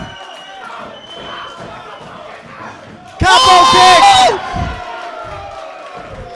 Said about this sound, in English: Feeling the roar of the Fight Factory crowd.